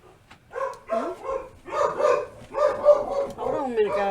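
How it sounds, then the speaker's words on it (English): Dogs give excited, whiny yips and short barks in quick bursts close by, filling the whole stretch with varied pitch. "If you hear barking, that's what that is."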